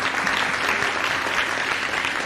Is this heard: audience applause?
yes